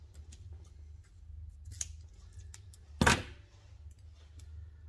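Scissors snip through yellow latex balloons: a few light clicks of the blades, then one sharp, close cut, over a low steady hum in a quiet room.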